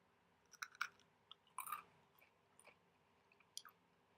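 A crunchy seahorse head being chewed, a few sharp close crackling bites and crunches in short irregular bursts separated by quiet, faint overall.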